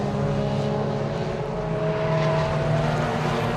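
Toyota MR2 race cars in the Millers Oils MR2 Championship grind through the old hairpin at Donington Park, a steady, loud blend of several engines droning together without a break, no voices over it.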